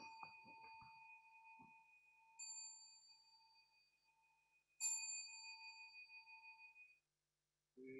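A meditation bell rung to close a Zen community practice session: two clear struck tones with long, ringing decays fading into silence, heard alone.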